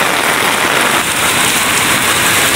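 Steady, dense rainfall hissing on surfaces nearby, constant and fairly loud with no voices.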